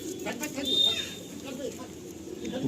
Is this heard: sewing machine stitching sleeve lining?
no